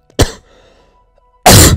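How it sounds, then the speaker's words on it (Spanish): A person coughs twice, two sharp, loud bursts close to the mic separated by a brief quiet gap. "Perdón, me dio la tos, lo siento."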